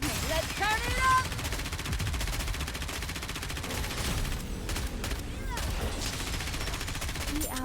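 Dense, continuous video game gunfire and bombardment in Nikke: Goddess of Victory, with rapid rattling bursts and booming impacts that stay loud for the whole stretch, mixed with sweeping electronic effect tones and brief voice lines.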